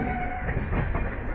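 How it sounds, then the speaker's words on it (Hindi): Jodhpur Dadar Express, train 14807, rolling out after leaving Ahmedabad Junction, a loud close rumble with a steady rhythmic rattle from inside the coach. "अहमदाबाद जंक्शन से हमारा डिपार्चर हो चुका है"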